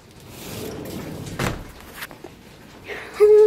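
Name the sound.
back door being opened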